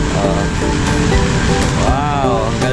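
A fountain at Pier 15 runs continuously, a loud, dense rush of splashing water that fills the whole clip, with a pitch-shifting tonal sound and faint voices in the background.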